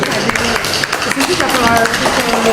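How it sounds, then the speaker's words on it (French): A studio audience gives loud, dense applause for a contestant at a candidate audition show, with crowd chatter mixed into the steady clapping throughout. "Applaudissez-le s'il vous plaît."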